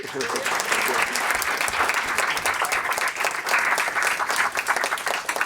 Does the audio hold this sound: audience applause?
yes